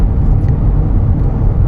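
A Dodge Charger with a Hemi engine accelerating up to speed, a loud, steady low rumble of engine and road noise heard from inside the car, with no voices.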